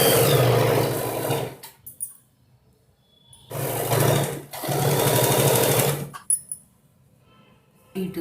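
Sewing machine stitching the side seam of a high-low skirt runs in two loud, steady whirring bursts of a few seconds each, close up, with short quiet pauses and small clicks of the fabric being handled in between.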